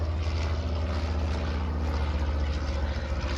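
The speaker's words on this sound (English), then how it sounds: "That beautiful Proctor going past us now" A Percival Proctor propeller aircraft passes at an airshow, its engine a steady, low droning roar that stays constant and fairly distant throughout.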